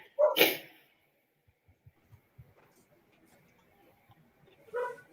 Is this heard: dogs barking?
yes